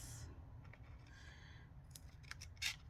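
Scissors snipping junk mail paper, faint and close, a few small crisp cuts and rustles over a quiet low background hum, the sharpest snip near the end.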